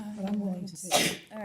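During a Quincy school committee meeting, a single sharp sneeze bursts out near the mic right after someone speaks, and his talk resumes immediately after it.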